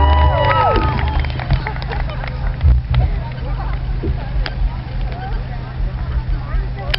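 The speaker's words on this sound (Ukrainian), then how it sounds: "Ваші оплески" A festival crowd at the 2013 Franko-Fest concert applauds and cheers in a dense, steady roar, with shouting voices audible near the start.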